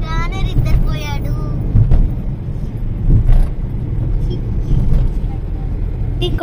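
A car drives along a rural road in Konaseema district, Andhra Pradesh, near the Dowleswaram bridge. A steady low engine and road rumble runs throughout, heard from inside the car, with people talking over it.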